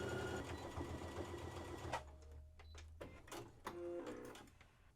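Sewing machine stitching hoodie waistband ribbing at a 5/8 seam, a close continuous mechanical whir for about two seconds, then short stop-start bursts of stitching with small clicks between.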